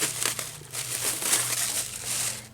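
Fabric packaging being ripped open during a quilting box unboxing makes a close, continuous crinkling and tearing rustle lasting a couple of seconds over a faint low hum.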